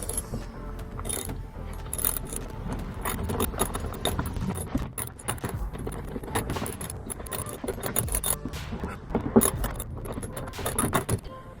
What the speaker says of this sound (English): we're gonna take our 10mm socket wrench and screw this back in place